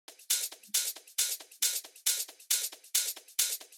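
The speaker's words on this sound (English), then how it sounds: "I then layered that with another shaker loop." A bright speed garage shaker loop repeating steadily, each shuffle pulse evenly spaced and crisp, played alone at moderate volume.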